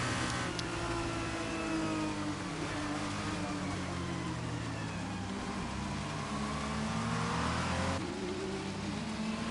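Racing cars in the Flower Cup of the Baku game, revving loudly together at the race start, with a dense, continuous layered engine roar and whine that holds steady throughout.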